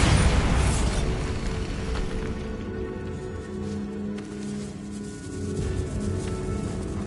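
A Bombarda spell blast in Hogwarts Legacy, inside a decayed catacomb: a loud, close boom with a heavy rumble that lingers through several seconds of crumbling debris and low reverberating noise, no voices.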